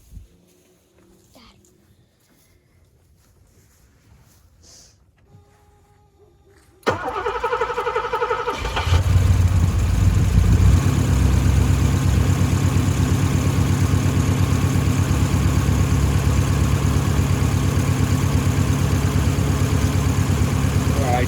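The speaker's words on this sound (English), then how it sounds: "We're going to see how much sucks down when we start it up and let it warm." A 1982 Porsche 928 V8 cranks and catches after a quiet stretch, then settles into a loud, steady idle that continues to the end.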